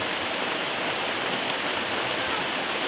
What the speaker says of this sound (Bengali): যে অবস্থা বৃষ্টিটা থামার কোনো ই নাই